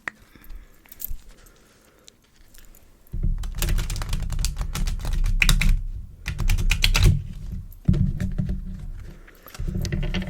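Playing cards are shuffled and handled during a game of solitaire: close, crisp riffling bursts and rapid flicks, with quieter taps and slides between them, and no talk.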